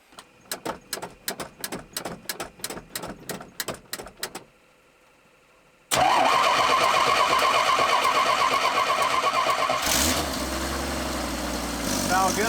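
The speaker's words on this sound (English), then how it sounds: "We're gonna fire the truck up." A Chevy C10 truck with a Rochester Monojet carburetor cranks with a rapid rhythmic series of starter chugs, pauses, then fires and catches into a loud, steady idle, with a brief rev near the end.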